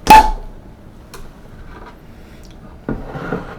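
A cork pops sharply from a bottle of Chimay Grande Réserve beer, one crisp pop followed by faint handling and a soft clink a few seconds later.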